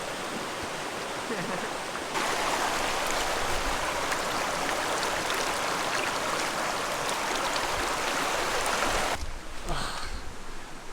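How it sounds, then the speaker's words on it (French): Cold mountain water pours from a pierced bottle used as a homemade shower outdoors in Kyrgyzstan, a close, steady splashing hiss that runs for about seven seconds before tapering off. "On a percé une petite bouteille, on s'est fait une petite douche faite à la main, une petite douche maison."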